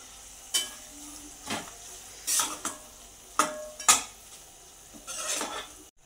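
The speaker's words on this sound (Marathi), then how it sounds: "याला चांगलं मिक्स करून घेऊया।" A spoon stirs biryani masala with chopped mint and coriander in a metal pan, giving about eight separate scraping clinks at an uneven pace, near and fairly quiet, with a faint sizzle underneath.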